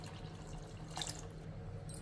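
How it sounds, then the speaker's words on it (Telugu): Water trickling into a pot of country-style chicken curry, a faint thin pour with light splashes, quiet against a low steady background, no voices. "ఇంకొన్ని నీళ్లు వేసుకుందామండి."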